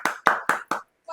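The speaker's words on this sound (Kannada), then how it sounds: "ಆ ಖುಷಿಗೆ ಚಪ್ಪಾಳೆ" Four sharp hand claps at a New Year celebration come in quick, even succession, close and crisp, followed by a short pause and the start of another faint sound.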